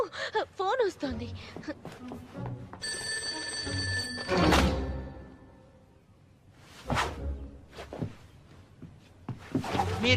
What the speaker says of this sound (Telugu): ఫోన్ వస్తుంది.